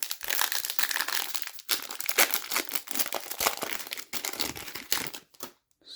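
2024-25 Series 1 hockey trading card packs from a hobby box are torn open, with close, busy crinkling and ripping of foil wrappers in uneven bursts that end in a brief quiet.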